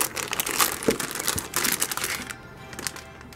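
Crinkling plastic and rustling cardboard as a B450 motherboard is taken out of its packaging, close-up handling noises with a few sharp crackles that fade toward the end.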